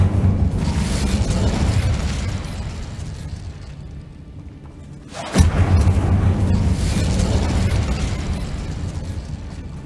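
An Incendio fire spell cast in Hogwarts Legacy bursts out as one sudden whooshing blast over a steady low in-game rumble, followed by crackling fiery noise.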